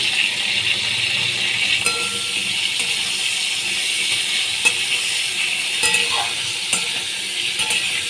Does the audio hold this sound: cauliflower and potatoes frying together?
yes